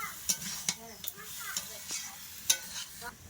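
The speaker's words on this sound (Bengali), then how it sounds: "জিরা বাটা দিয়ে দিয়েছি এবার নেড়ে চেড়ে জল দিয়ে দেবো" A spoon scrapes and knocks against a pan as fish curry with cumin paste and cauliflower is stirred, several sharp scrapes over a soft sizzle, moderately close.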